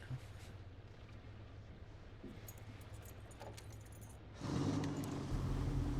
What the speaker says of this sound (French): il se démarre vite son bateau